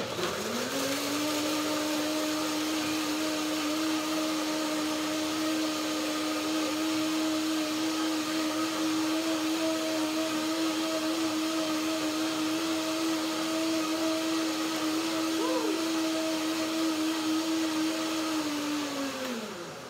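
A blender blending bananas and water whirs steadily at high speed, a loud continuous drone with a constant pitch that winds down only at the very end.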